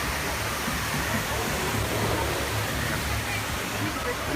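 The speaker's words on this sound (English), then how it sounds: "These waterfalls coming down, and yes, that's real water, guys." Water tumbling down from floating rock formations in the Pandora land at Walt Disney World makes a continuous broadband rush, with a faint low crowd murmur running underneath.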